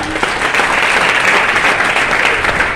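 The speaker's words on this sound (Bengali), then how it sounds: "জোরে হাততালি দিন না" An audience breaks into steady, dense applause throughout, filling the room evenly with sustained hand-clapping at a team gathering, with no voices heard over it.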